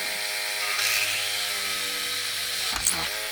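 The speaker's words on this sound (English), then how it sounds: "we take our Dremel tool again, and we run it back through the hole" A Dremel rotary tool whines steadily at high speed as it bores back through a hole in a plastic G.I. Joe Classified-scale Trouble Bubble toy canopy, with a brief surge in pitch and load near the end.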